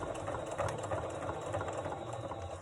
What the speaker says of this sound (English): tuck the fabric under the machine so it doesn't stop me from moving forward sewing